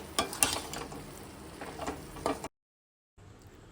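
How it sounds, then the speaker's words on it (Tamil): Grated coconut being stirred through drumstick poriyal in a pan, a steady scraping sizzle with a few sharper spoon scrapes, close and moderately loud, cutting to near silence and then a faint hiss. "தேங்காய் போட்டு நல்லா கிளறி விட்டுட்டு கொஞ்சம் வதங்கணும்"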